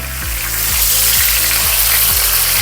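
Cheesy schnitzel frying in a pan, a loud continuous sizzle with crackling spatter close up, plus a low rhythmic thumping underneath at steady intervals, no voices.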